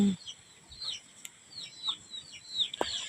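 Faint, close clucking from a hen with freshly hatched chicks mixes with a scatter of high, thin peeps across a few quiet seconds.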